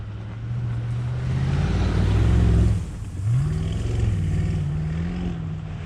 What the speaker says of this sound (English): Just listen to this V8 roar, and you can hear the blow-off valve a few times.